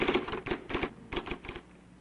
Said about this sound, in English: A remarkable electric typewriter, the IBM selectric.